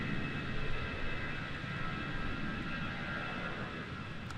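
A plane departing Raleigh Durham International Airport on a stormy, windy day gives a faint, steady engine rumble with a thin tonal whine, alone and fairly distant.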